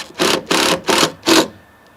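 A powered driver sinks the first screw into a chain shade's side track in four short, buzzing bursts with brief gaps between them, close up, ending in quiet.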